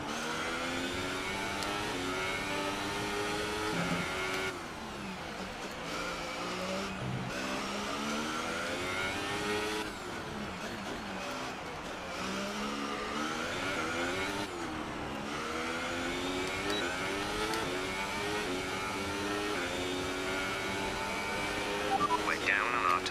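Formula 1 car engines from the F1 2018 racing game, a continuous high-pitched whine rising and falling through gear changes over a full lap, with voices talking over the engine throughout.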